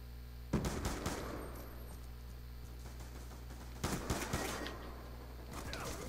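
Two separate bursts of rapid video game gunfire, the first near the start and the second a few seconds later, over a low steady hum.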